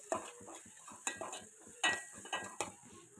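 Vegetables fry in oil in a pan, heard mostly as a series of distinct clinks and scrapes of a utensil against the pan, roughly six sharp strokes, with a faint sizzle in the gaps.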